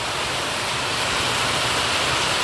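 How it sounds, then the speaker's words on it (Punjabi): Heavy monsoon rain pours outside onto a street, a dense, steady hiss that fills the whole stretch without pause, loud and close, with no voices. "ਵਰਖਾ ਵੀ ਤੁਹਾਨੂੰ ਹੁੰਦੀ ਹੋ ਰਹੀ"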